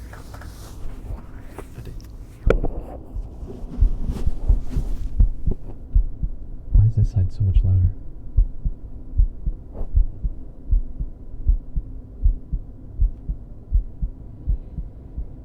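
A heartbeat plays as an ASMR sound effect, a steady run of deep, muffled thumps at close range that continues alone after a brief spoken question near the start.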